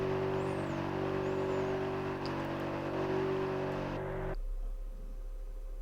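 A car engine in the racing game FlatOut 2 holds a steady high-revving drone, loud and continuous, then cuts off abruptly near the end, with no talking.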